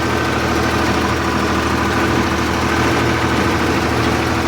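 A farm tractor engine runs steadily under load at about 1500 rpm, a loud, continuous low rumble with vibration and a knocking edge, holding close and even throughout with no talk.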